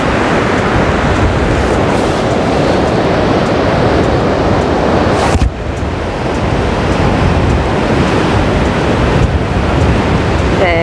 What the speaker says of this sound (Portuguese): Parece que a maré tá entrando água aqui.